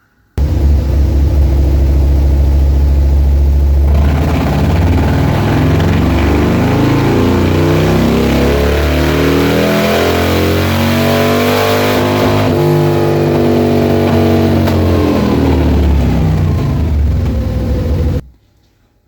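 A 135ci engine build fitted with Pro Flow headers revs hard on a dyno, sweeping up in a loud, continuous rising roar for about fifteen seconds before cutting off abruptly.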